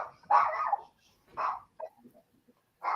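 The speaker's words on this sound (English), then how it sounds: "Oh, that wasn't Muxer. That was a dog." A dog barks in several short, sharp bursts with gaps between them, fairly close and loud, followed by a few softer yips and whimpers before a final bark.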